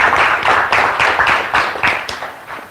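An audience applauding to welcome a speaker at a lunchtime talk, several seconds of lively, fairly loud clapping in uneven surging waves that taper off slightly at the end.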